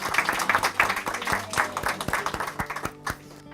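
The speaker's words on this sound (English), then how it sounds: "And you people need applause." Audience applause after a fundraising total is announced at a community gathering, a short burst of individual, fairly close hand claps that thins out within a few seconds.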